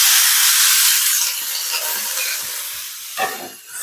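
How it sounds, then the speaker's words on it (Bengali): Potatoes, onion and garlic frying in hot oil in a home kitchen, a steady bright sizzle with hiss that eases slightly, broken by a few soft stirring clatters near the end. "আলু পেঁয়াজ আর রসুনটাকে আমি দিয়ে দেবো আগে"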